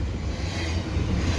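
CP eastbound stack train passes Cedar Park station in winter, a steady loud low rumble of rolling wagons filling the short stretch without a break.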